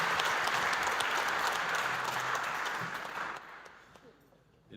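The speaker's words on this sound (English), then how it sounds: "Big round of applause." An audience at a council governing body inauguration ceremony gives a round of applause, a dense close wash of clapping that holds for about three seconds and then fades away.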